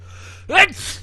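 A single sneeze on a podcast recording: a short sharp burst of breath about halfway through, loud and close, standing out against a steady low hum.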